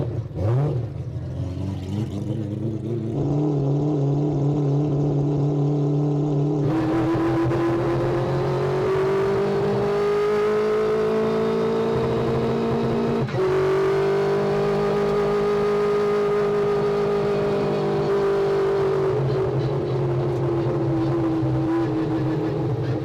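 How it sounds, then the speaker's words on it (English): An all-wheel-drive four-rotor Mazda RX-7 race car engine idles and revs repeatedly at a track, its pitch climbing and holding high in long sustained pulls toward 10,000 RPM, loud and close. "We're up to operating temperature, revving through the RPMs just fine."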